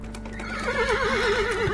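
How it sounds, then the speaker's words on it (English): Horses neigh and whinny in the point-and-click video game The Supper, a wavering, warbling call rising over a steady low tone and faint clip-clop hooves, loud and close, with no talk. "Do you hear it, Miss Appleton? Horses, growling stomaches. Here they come."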